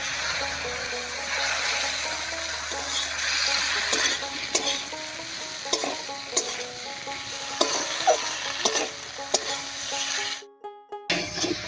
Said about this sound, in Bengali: আদা জিরা বাটা দিয়ে একটু নাড়িয়ে নিয়েছি